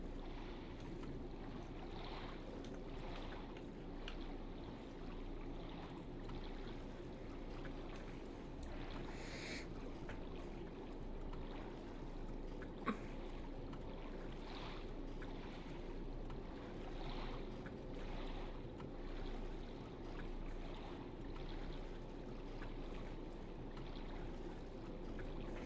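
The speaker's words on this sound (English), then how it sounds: "This is just the game now. Just paddling back and forth." A rowboat is paddled back and forth across water in the video game Silent Hill 2, with a steady wash of water and wind and soft, repeated oar strokes, fairly quiet and with no voices.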